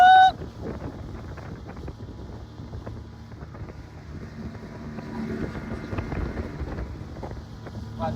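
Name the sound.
boat ride on water in Kutch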